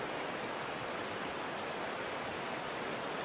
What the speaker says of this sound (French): Le son des chutes d'eau est omniprésent, un grondement constant qui remplit l'air.